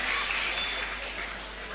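Audience applause at a live speech competition show, a steady wash of clapping from a crowd that stays fairly even and slightly fades, with no voices over it.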